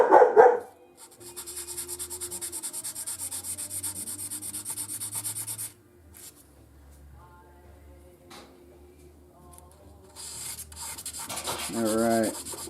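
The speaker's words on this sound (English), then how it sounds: "I think we're going to use a little bit of 600 grit here." Sanding on an 1851 Navy single action revolver with 600 grit sandpaper, a steady close rubbing scrape that runs for several seconds and then gives way to lighter, intermittent strokes.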